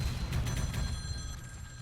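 Telephones ring insistently in the visual novel Tokyo Babel, a repeated bright bell chiming in pulses over a steady low rumble, with no one talking.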